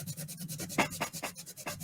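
A bone folder burnishing paper ruffles on a Christmas journal tag, soft close rubbing strokes in a quick repeating rhythm, quiet and dry, with no talking.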